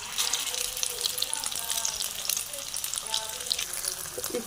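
Egg-coated chicken Chinese kababs fry in a pan with a steady, dense sizzle that holds close and even from start to finish.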